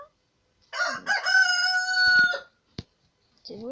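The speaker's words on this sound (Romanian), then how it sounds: "Cocoșul e aici?" A rooster crows once, loud and close, its long harmonic call lasting nearly two seconds, followed by a short sharp knock and the start of another sound at the end.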